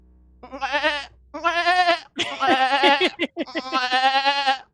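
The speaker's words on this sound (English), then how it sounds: "Here's the sound, or the actual little plastic goat." A small plastic goat toy lets out a series of loud, harmonic goat screams, four drawn-out bleating bursts in close succession, each wavering and nasal, with no talk over them.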